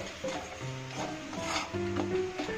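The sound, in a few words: spices being stirred and fried in a pan for fish curry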